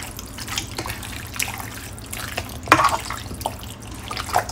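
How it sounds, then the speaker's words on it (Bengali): Mutton being mixed with marinade by hand in a home kitchen, giving soft wet squelching and sloshing sounds in irregular bursts, close and moderately quiet with low background hum. "মাটন ম্যারিনেশনের এই আওয়াজটা মানে জিভে যেন আরো জল এনে দেয়।"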